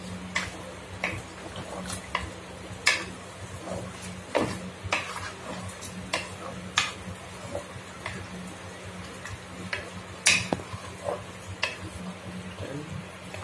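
Chickpeas being stirred into a paste in a pan for gravy: soft, regular scraping and tapping strokes of a spoon against the pan over a faint sizzle and low hum, fairly quiet and without talk.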